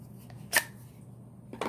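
Cold Steel puukko knife slicing: two short, crisp cutting strokes about a second apart, close and fairly quiet against a faint background hum.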